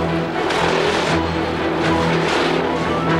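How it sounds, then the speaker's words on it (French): A car engine revving hard while warming up its tyres, a loud continuous roar with rising and falling surges, close and steady throughout. "Échauffement des pneus."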